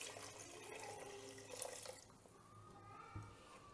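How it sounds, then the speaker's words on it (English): A glass of water is poured into a pot of Kashmiri-style mutton korma, a close, quiet splashing pour that trickles and settles after a couple of seconds. "I'll add around 1 glass of water."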